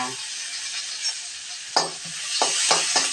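Chopped onion sautéing in a pan for a bitter gourd fry, a soft sizzle with a few sharp scrapes and stirs close by, no voices.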